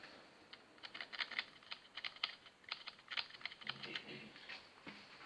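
Keys on a G-LAB gaming keyboard typed in a quick, uneven run of soft clicks, faint and fairly quiet, with no talking.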